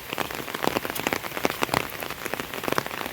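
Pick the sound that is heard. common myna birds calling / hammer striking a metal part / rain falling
rain falling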